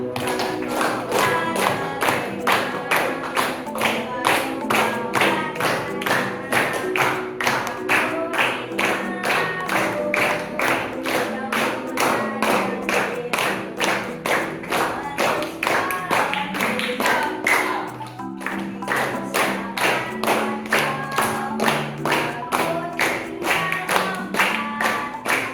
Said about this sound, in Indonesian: kita sama-sama tepuk tangan ya, sama-sama tepuk tangan